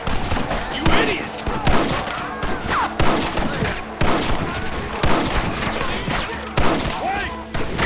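Dense gunfire in a Red Dead Redemption western shootout, with rapid overlapping rifle and pistol shots cracking loudly and continuously throughout, a few shouted voices mixed underneath.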